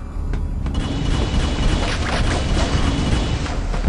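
Turrets fire in the Area 51 video game, producing a dense, loud, continuous roar of booming blasts that rumbles heavily and close for the whole stretch.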